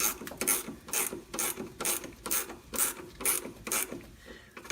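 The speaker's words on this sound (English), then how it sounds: "There's not much else that can get up in here and ratchet like this" A flex head ratchet wrench works on a rear shock of a 1997-2004 Ford F-150 in a tight space, giving a steady run of close, crisp ratcheting clicks in regular back-and-forth strokes, about two per second, with no talking.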